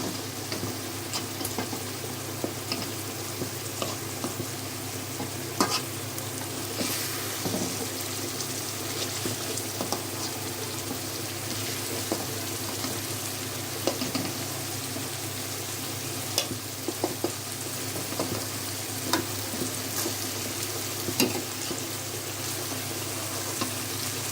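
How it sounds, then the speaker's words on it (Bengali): Singi fish bhuna with onion and tomato, sautéed and stirred in hot oil: a steady, close sizzle with occasional scrapes of the spatula, and no talking. "মাছটা ভালোভাবে কষানো হয়ে গেছে। এই যে মাছটা তেলের উপর উঠে গেছে, তেলটা মাছের উপর উঠে গেছে।"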